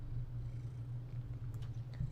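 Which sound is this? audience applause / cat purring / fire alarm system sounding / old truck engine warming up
cat purring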